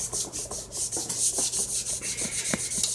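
A BC Rich Warlock guitar body is hand-sanded with 320 grit sandpaper in quick, rhythmic back-and-forth rubbing strokes, close and steady, with a few small knocks; no one speaks.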